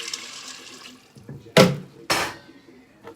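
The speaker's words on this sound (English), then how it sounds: "Here's my 4 cups of water." Four cups of water are poured into a cooking pot in two separate loud gushing splashes, a few seconds apart, after a faint background hiss.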